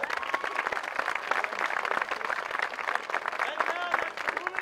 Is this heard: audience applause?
yes